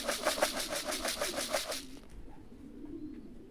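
Racing pigeons coo at the loft as they come in from a competition flight, a close, rhythmic series of soft low coos for almost two seconds before fading into quiet outdoor ambience.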